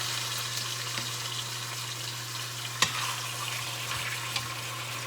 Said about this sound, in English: let it sizzle away in the hot oil for a couple minutes till it's sort of brown